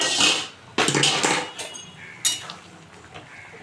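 Egg and papaya curry gets stirred in a metal pot, giving a few sharp clinks and scrapes of a spoon against the pot, close and loud, separated by short quiet gaps.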